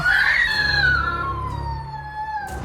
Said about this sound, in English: And then came the first scream.